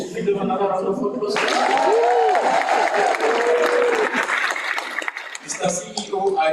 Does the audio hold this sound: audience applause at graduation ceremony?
yes